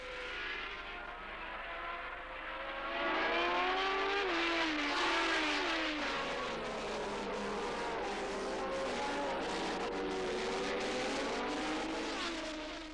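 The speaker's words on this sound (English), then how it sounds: "Mario was on form, however, and at the end of lap 2 he passed the Ligier in front of the pits." 1977 Formula 1 cars racing at the Dutch Grand Prix, engines screaming and rising and falling in pitch as they pass and accelerate, loud and continuous with overlapping cars and no voices.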